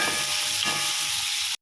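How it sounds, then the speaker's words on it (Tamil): Onions frying in a pan for paneer butter masala, a steady close hiss and sizzle with faint stirring, heard alone before cutting off abruptly. "நல்லா வெங்காயத்தை வறுத்து எடுத்துக்கலாம்."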